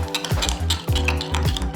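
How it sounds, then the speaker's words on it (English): A spoon stirs paprika and spices together in a bowl, giving repeated scraping, clinking strokes in a steady rhythm, close and fairly loud, with no talking. "And now we mix it all together."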